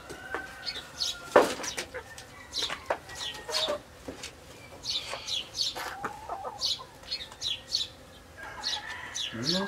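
Chickens and a rooster cluck and chatter on a farm, with many overlapping short calls and chirps at moderate distance over faint background noise.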